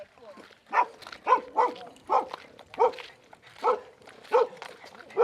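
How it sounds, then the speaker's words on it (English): A dog barks in a lakeside setting at Willow Beach, Arizona, near a kayak launch, giving about nine sharp, evenly spaced barks at close range. "She's gonna bark, but she's fine."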